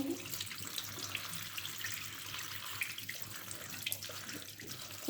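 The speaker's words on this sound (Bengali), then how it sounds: "দেখেন কত রকম জামগুলো ধুয়ে নিচ্ছি, সুন্দর করে ধুয়ে নিচ্ছি।" Java plum (jamun) fruits are washed in water, with a steady, soft wash of running, splashing water that fills the whole moment without any voices.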